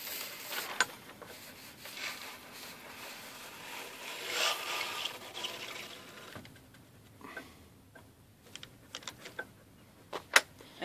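A Voyageur table loom beam being cranked, giving a run of dry ratcheting clicks and rubbing scrapes up close, with a few sharper clacks toward the end.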